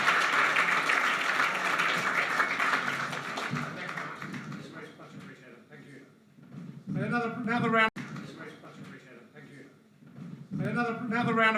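An audience at a chamber of commerce gathering applauds a speaker from Auspec Solar, with loud, dense clapping that fades over several seconds before a voice speaks over it.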